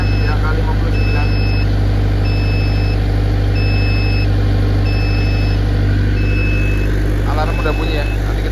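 A 40 kVA generator runs under full 100% load, a loud constant close engine drone with a regular beeping alarm repeating over it while a person talks throughout.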